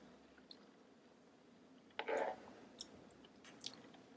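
Quiet chewing and squishing of vegan chocolate pudding from a spoon, with a soft burst of mouth noise midway and a few small clicks, close and faint.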